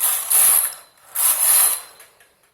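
A knitting machine carriage sweeps across the needle bed while knitting a jali lace pattern, making two close, rasping mechanical passes with a short pause between them and no voices.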